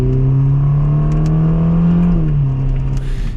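Deep, steady hum of a Ferrari Roma Spider's 3.9-litre V8 (F154, 620 hp) from inside the cabin at gentle cruising speed, rising slightly and easing off, with faint ticks and rustles over the drone.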